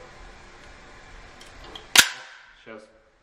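A single sharp .44 Magnum pistol shot cracks out, loud and close, followed by a brief metallic clack of the slide cycling back.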